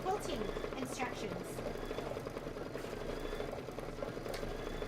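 A Kimberbell embroidery machine stitches a table topper with a steady, continuous mechanical whir and fine rhythmic clatter, moderately close, holding level throughout with faint background noise.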